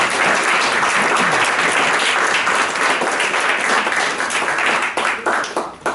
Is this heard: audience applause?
yes